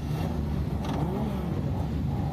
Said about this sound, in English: The engines are revving. The engines are roaring.